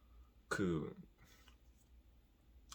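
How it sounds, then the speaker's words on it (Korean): A single short, dry cough close to the mic, followed by faint breaths and near silence. "가끔가다 마른 기침이 나오는데"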